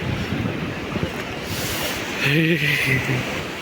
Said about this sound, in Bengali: এখানে অনেক বড় বড় ঢেউ এসেছে।